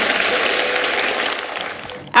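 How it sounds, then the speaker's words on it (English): Audience applause at a gathering, a dense steady wash of clapping that continues throughout and stops abruptly at the end. "Give his heart a huge round of applause"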